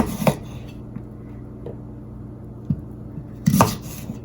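Knife cutting sweet potatoes into halves on a board, a few sparse thuds and knocks, one near the start and a louder one near the end, close and otherwise quiet.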